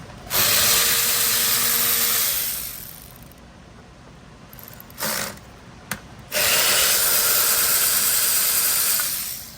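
A hand ratchet spins off 10 mm bolts from the lower airbox of a four-cylinder Honda Civic, with two long bursts of rapid clicking separated by a quieter pause and a couple of short clicks.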